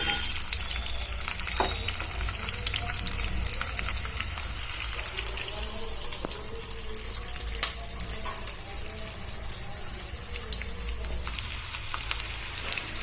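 Curry leaves, garlic, green chilies and onions frying in a pan, giving a continuous moderate sizzle like light rain, with scattered sharp pops and spatters and no talking.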